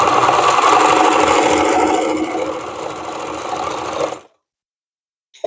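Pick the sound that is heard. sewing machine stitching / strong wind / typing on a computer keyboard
sewing machine stitching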